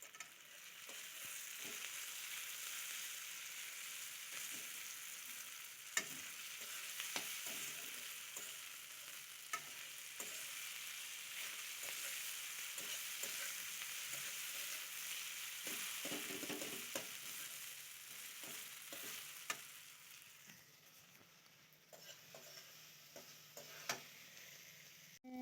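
Food frying in a pan as it is stirred, a steady close sizzle running throughout with intermittent scraping and clinks of a spoon against the pan.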